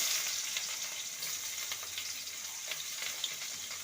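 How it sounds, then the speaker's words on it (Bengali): Chopped onion hits hot oil in which whole cumin seeds have been tempered for a curry of pointed gourd, giving a steady, bright sizzling hiss close by with faint stirring. "ফোড়নটা ভাজা হয়ে গেছে এবার দেব কোচানো পেঁয়াজ"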